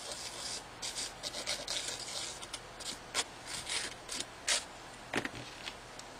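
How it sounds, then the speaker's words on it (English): A small metal craft brad rubbed against sandpaper by hand, steady close scratchy rasping strokes in uneven bursts, fairly quiet, with no talk. "you're going to sand your brad down"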